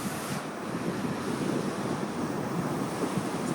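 Ocean waves wash onto the shore in a continuous, full roar of surf mixed with some wind buffeting, steady and fairly close throughout.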